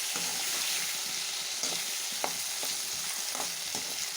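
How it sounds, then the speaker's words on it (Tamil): Okra fries in hot oil with a constant close sizzle, while occasional clicks and scrapes of a stirring utensil rise above the hiss. "வெண்டைக்காய் போட்டு ஃப்ரை பண்ணி எடுக்க போகிறேன்"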